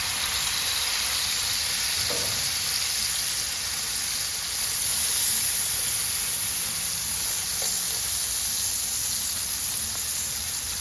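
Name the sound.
smash burger patties sizzling on a griddle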